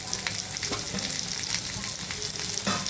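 Tomatoes, garlic cloves and curry leaves fry in a pan with a steady, close crackling sizzle, broken by occasional louder pops and spatters from start to finish.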